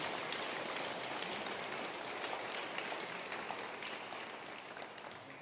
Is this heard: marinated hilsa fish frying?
no